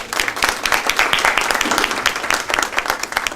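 Steady audience applause at a scholarship charity gathering, dense many-handed clapping filling the room loudly and evenly throughout, with no voices over it.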